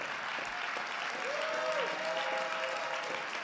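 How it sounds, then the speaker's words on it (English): Church audience applauding a pastor's co-founder, steady clapping from a crowd heard from a distance, with a faint sustained tone drifting above the clapping throughout. "Y'all clap for my co-founder"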